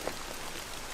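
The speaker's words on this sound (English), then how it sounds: "I've been like in this downpour now all day" Heavy rain pours steadily onto a shelter roof at an Iron Age bushcraft build, a dense, even hiss of drops with no breaks across the whole second.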